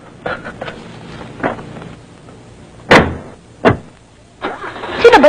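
A car door thunks shut, followed by an engine cranking and turning over in loud bursts, then catching near the end, with a few softer knocks and handling sounds before it.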